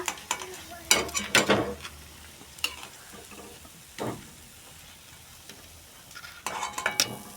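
Food frying in a pan, heard as a soft sizzle with several bursts of stirring and scraping clatter clustered near the start and end, quieter crackling between them, no voices.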